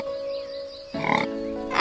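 A short pig oink bursts out about halfway through, set against a steady musical drone in a children's animated story about farm animals.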